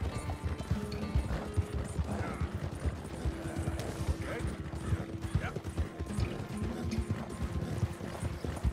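Hooves of horses in a time trial, a Tennessee Walker trailing behind, drum steadily on the ground in dense overlapping clip-clop, with a commentator's voice running over the galloping.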